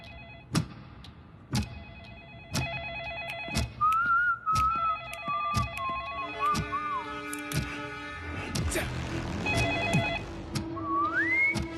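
A telephone keeps ringing without answer in repeated electronic tone bursts, mixed with musical tones and a sliding whistle-like melody over a dense, busy background.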